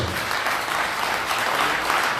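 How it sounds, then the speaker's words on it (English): A crowd at a Nigerian political fundraiser in the Washington DC area applauds steadily, a dense, even wash of clapping with no pause, with a few voices faintly under it. "Please give me a lady round of applause."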